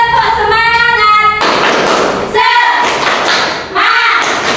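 A group of students performs a rhythmic spirit clap in a classroom, sharp bursts of clapping and thumps alternating with chanting voices.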